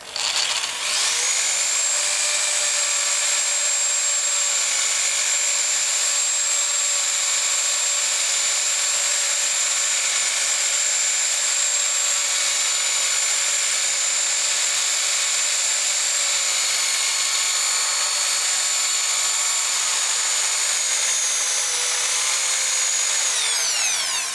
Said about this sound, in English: I'm trying to drill just the centre of the head off